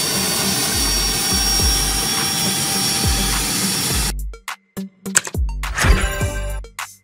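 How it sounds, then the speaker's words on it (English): A private jet engine roars with a loud, steady whine for about four seconds, then cuts to choppy bursts and rising mechanical noise, heard alone without talk. "Private jet."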